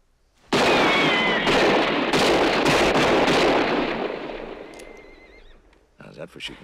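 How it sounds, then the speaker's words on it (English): Gunfire in a western movie: a loud burst of overlapping gunshots and ricochet-like noise that lasts a few seconds, then fades, followed by a few scattered sharp reports. "For shooting Wally."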